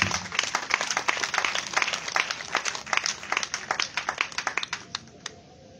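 A church congregation applauding to acclaim the Lord, dense fast clapping from a crowd that thins out toward the end into a few scattered claps.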